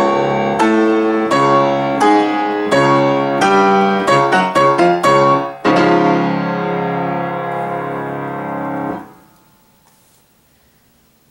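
A piano plays an octave passage from Chopin's third scherzo with clean pedal and no accents: repeated chords in an even rhythm, close and full, that speed up briefly before a long ringing chord fades to near silence.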